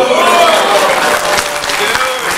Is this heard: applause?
yes